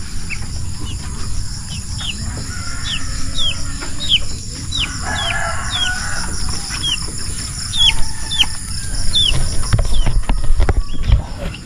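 Chickens, turkeys and geese at feeding time give repeated clucks and short calls, a steady scatter of bird noise close by over constant rustling and pecking, with no talk.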